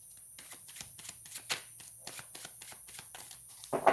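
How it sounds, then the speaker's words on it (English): Tarot cards being shuffled by hand, a rapid run of crisp riffling flicks and taps up close, quiet and without talk, ending in a louder rustle as cards are pulled. "let's pull you some cards for love and romance, Scorpio"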